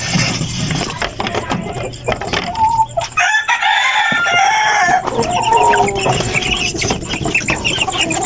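Month-old chicks and other chickens in a backyard poultry pen, a busy mix of cheeping, clucking and a crowing rooster, fairly loud and continuous with no talk.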